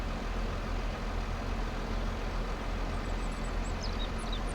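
A tractor engine idles in Farming Simulator 22, a steady low rumble with constant broadband noise and no change in pace, joined near the end by faint high chirps.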